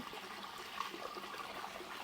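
Water drains out of a container through an external siphon, making a faint, steady trickle with small gurgles. It is quiet and continuous, with no talking.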